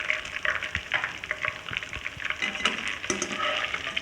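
Onions fry for a chicken curry, a busy crackling sizzle in a hot pan, close and steady, with occasional scraping stirs and spattering pops throughout.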